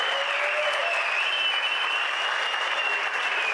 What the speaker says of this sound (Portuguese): uma salva de palmas para o imperador Shen Nung.